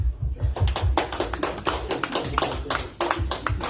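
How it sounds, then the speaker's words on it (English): Press conference audience applauds after a Miss Global 2023 runner-up session, a dense burst of hand claps close and loud, sustained for several seconds without speech. "can we please have another round of applause?"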